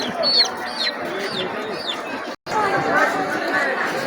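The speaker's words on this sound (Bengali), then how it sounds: "এখানে মুরগি হাঁস বিক্রি হয়।" Chickens and ducks cluck and chirp close by amid a busy crowd murmur at a village market, with thin peeping calls of ducklings scattered over the steady hubbub.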